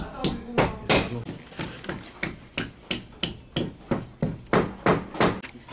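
Hammer blows striking repeatedly in a steady rhythm, about a dozen sharp hits over several seconds, close and fairly loud with no talk over them.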